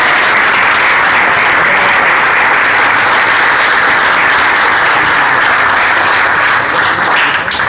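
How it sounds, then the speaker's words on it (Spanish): Dense, loud audience applause fills a municipal ceremony hall in Tuxpan, a steady unbroken roll of many hands clapping with no talk over it. "Un aplauso."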